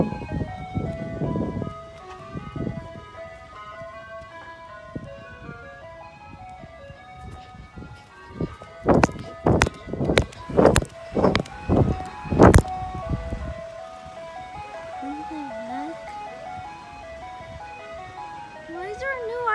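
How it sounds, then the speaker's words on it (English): Ice cream truck playing its tinny repeating jingle melody, steady in the background, while children talk and a burst of loud clattering knocks cuts in midway before the tune carries on. "Why is there a new ice cream truck?"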